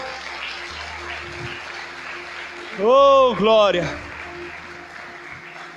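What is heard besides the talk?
congregation applauding in church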